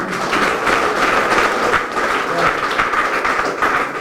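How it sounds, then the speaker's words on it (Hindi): Steady crowd applause at a bike rally held by an Andaman automobile workshop association, loud and continuous for several seconds with a dense clatter of many hands. "जोरदार तालियां।"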